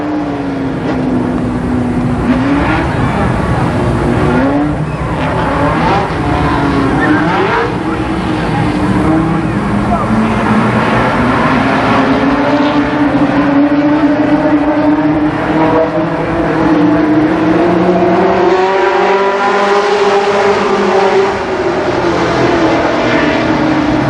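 Late model race cars in a heat race at Columbus Motor Speedway in 1991 keep up a continuous loud engine roar, the pitch rising and falling as cars pass, with a faint voice now and then.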